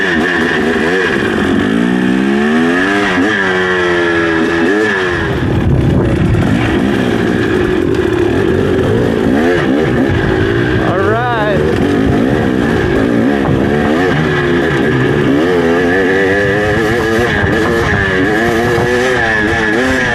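Beta 300RR and KTM 300XC off-road motorcycles roar loud and close, their engines revving and rising and falling continuously with no pause.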